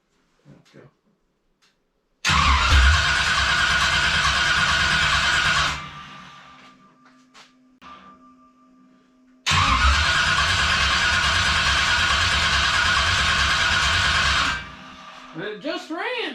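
A revived engine cranks and catches twice, each time roaring loudly at a steady idle for several seconds before shutting off, with a quiet pause between runs and faint voices at the end.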